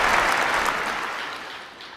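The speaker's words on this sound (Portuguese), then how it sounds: "vamos oferecer uma salva de palmas para o reverendo Ibson" A congregation at a spiritual liberation seminar gives a round of applause for a reverend, a thick burst of clapping that gradually fades toward the end.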